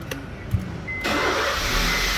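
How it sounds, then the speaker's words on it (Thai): A 2014 Honda City is started with an aftermarket push-start button: a few soft clicks, then the engine catches abruptly and settles into a steady, close idle, with no talking. "นี่นะครับ สตาร์ทได้ทันทีนะครับ"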